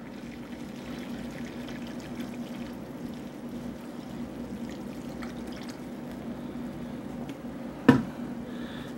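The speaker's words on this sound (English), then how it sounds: "we'll dump the last couple quarts of cold water in there" Cold water pours into a homebrew brew pot in a steady, gentle stream, with a faint trickling wash and a single sharp knock near the end.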